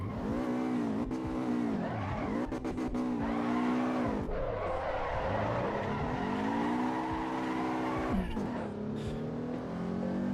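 A race car in the Assetto Corsa EVO racing game, its engine revving and straining as the tires squeal and skid through a corner, loud and continuous.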